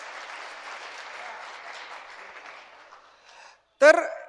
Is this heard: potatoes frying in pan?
no